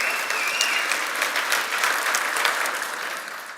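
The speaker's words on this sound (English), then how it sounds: "I want to give them a round of applause" A keynote audience at a tech conference applauds the iHerb team with steady, dense clapping from a large crowd that holds level throughout and tapers slightly at the end, with no voices over it.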